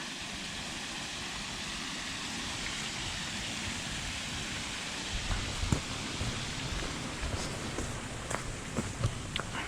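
Light drizzle falls on a moorland hike near Woodhead and Bleaklow Head, a steady soft hiss throughout, with a few faint taps and rustles joining toward the end.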